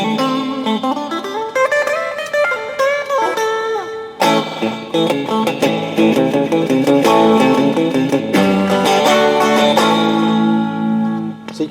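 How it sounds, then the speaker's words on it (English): A guitar plays through a cheap digital reverb built from only a few delays, so strummed chords and picked notes ring on with a thin, grainy tail; loud and steady with no talking. "So this is a cheap reverb."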